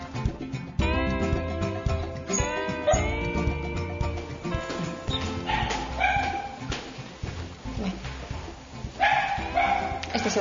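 A dog barks repeatedly in bursts, with whimpering yips in between, close and fairly loud, while people talk in the background.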